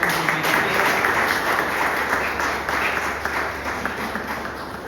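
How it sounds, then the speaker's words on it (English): An audience applauds at a cultural evening of Gujarati songs, with dense continuous clapping heard fairly close, fading slightly as it goes on. "So I would love everyone to give a huge round of applause for him."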